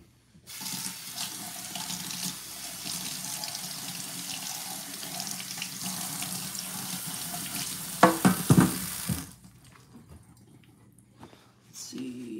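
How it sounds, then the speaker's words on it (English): Kitchen tap running steadily as salmon is rinsed under it, a continuous hiss of water with a brief splashing burst near the end before the flow stops, leaving a quiet room. "And let me rinse this off."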